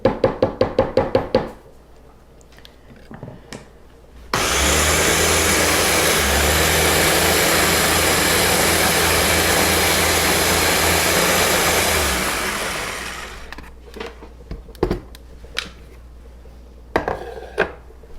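A blender roars loudly and continuously for about eight seconds as it purees cauliflower and potatoes, then winds down. Before and after come sharp clicks and knocks of the lid and jar being handled, with no speech.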